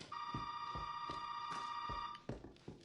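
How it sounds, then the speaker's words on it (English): A phone rings in the Resident Evil 7 video game: a steady electronic ring tone sounding for about two seconds, overlaid with several low thuds and a few softer knocks once it stops. "We know not to answer the phone, because answering the phone triggers the cutscene that makes you get punched in the face."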